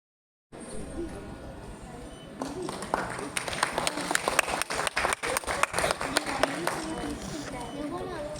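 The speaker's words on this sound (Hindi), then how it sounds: "जोरदार तालियां।" An audience at an international dance and music festival in Udaipur breaks into applause at a welcoming ceremony. The clapping starts thin, builds into a dense, sustained ovation, and voices carry faintly underneath.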